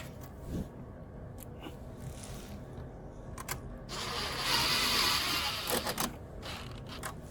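Nuts being threaded and tightened onto bolts holding a portable ETQ generator's air filter, giving close, small metallic ratcheting and creaking clicks in short bursts with a louder scraping stretch midway.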